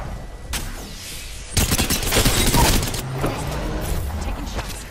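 Loud bursts of rapid automatic gunfire crackle in the Apex Legends battle royale game, with a brief shot early on and then a dense volley of cracks that fades into softer echoing shots.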